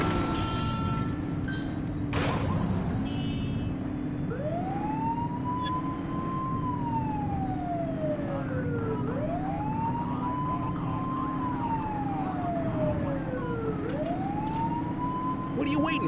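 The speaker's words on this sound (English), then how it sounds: "Remember to turn your siren on." A police car siren in The Precinct video game wails in long rising and falling sweeps over steady engine and road rumble, loud and continuous throughout, with a brief click partway through.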